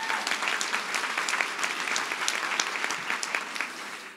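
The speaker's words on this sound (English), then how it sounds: "Let's give her a big round of applause." An audience claps steadily in a dense burst of applause for a speaker being introduced at a talk, sounding moderately close and without cheering or voices.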